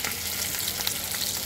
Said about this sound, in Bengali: দেখো মাছটা কিন্তু খুব সুন্দর করে আমি ভেজে নিয়েছে